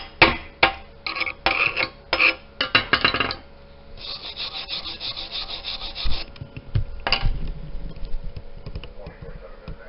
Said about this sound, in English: I love when the slag comes off like this.